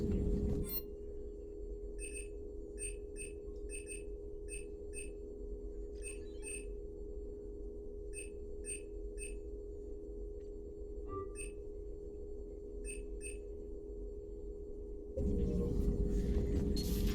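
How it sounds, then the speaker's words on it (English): Private-message terminal notification beeps from the Mass Effect video game: short bright electronic beeps in quick clusters, repeating over a steady low ambient hum with no voices. "A new notification is available on the private messages terminal."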